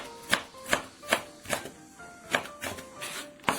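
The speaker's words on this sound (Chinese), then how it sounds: "再切一点胡萝卜粒" A knife chops diced carrot on a cutting board for an onion egg breakfast pancake: about eight crisp, evenly spaced strokes land close and loud, with no voices.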